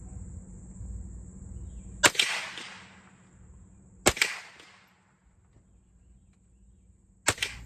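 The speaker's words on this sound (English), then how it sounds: "that was the first round that I've fired from this gun in, I don't know how many years" A highly customised Ruger 10/22 competition rifle fires three sharp single shots, evenly spaced about two to three seconds apart, each a crisp crack with a short decaying tail over a low background hum.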